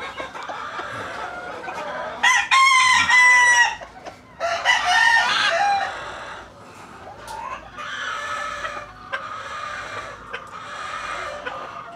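A Gilden Bky cross broodstag rooster crows loudly and close by, two strong crows back to back followed by fainter clucking and a softer distant crow, with no talking.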